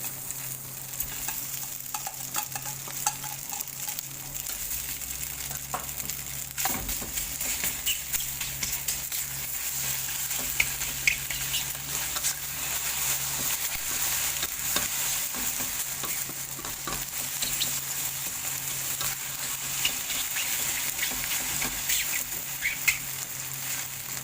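Bologna sizzles in a pan with crispy noodles and soy sauce during a stir-fry, a steady close crackle with the scrape and clatter of stirring running throughout.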